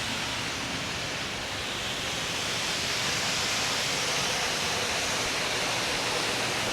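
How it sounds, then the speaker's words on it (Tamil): Water rushing forcefully down over a rock in Batu Pahat on Malaysia's west coast makes a steady, loud, dense roar that holds unbroken throughout with no other sound over it. "தண்ணி வந்து அடிச்சுட்டு ஒரு பாறை இருக்குது மேலே. அந்த பாறை கீழேருந்து வந்து தண்ணி நல்லா ஃப்ளோ பண்ணுறாங்க."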